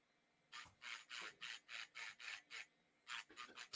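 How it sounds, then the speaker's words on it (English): A USB sanding pen rasps on plastic: rhythmic gritty strokes, about ten even passes in a steady back-and-forth pattern, close and fairly quiet, with a brief pause before a few more strokes. "Sanding pens. Oh, USB sanding pens."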